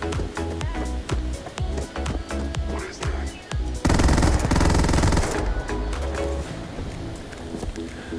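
The Buzzcut gun in Starfield fires rapidly in steady bursts, with one louder, denser stretch of gunfire in the middle, layered over game music and sound effects.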